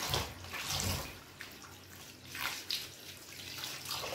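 Callaloo leaves are rinsed under running water in a container, a soft steady flow with intermittent splashes and swishing as the vegetable is handled, no talking.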